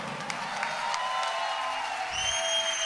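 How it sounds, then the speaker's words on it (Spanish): A live concert audience at Womex 16 applauds: a steady, dense wash of clapping and crowd noise that holds for the whole stretch, with thin whistle-like tones rising above it toward the end. "fuerte el aplauso"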